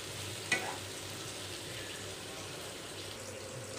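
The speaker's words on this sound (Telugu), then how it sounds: "ఇంకా కొంచెం ఫ్రై చేద్దాం ఫ్రెండ్స్" Sliced onions fry in a pan for Hyderabadi dum biryani, giving a steady, soft sizzle with one brief clink of a spatula near the start, close by and with no voices.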